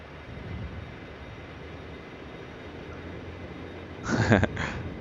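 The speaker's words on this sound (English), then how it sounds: "And now the engine sounds really kick in." Dash 8 Q400 turboprop engines in the Prepar3D flight simulator spool up as RPM goes to full for taxi, a steady broad roar that swells with a louder surge near the end, with no talk over it.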